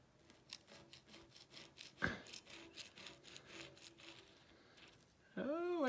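Metal scraper rasping a second coat of paint off an old four-head drill press in repeated short, close strokes, with a sharper scrape near the middle and a louder whirring sound at the end.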